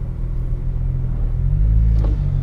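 A tuned Nissan R35 GT-R pulls away from a standstill, its engine a deep, steady rumble that swells slightly as the car moves off, close and continuous with no talk.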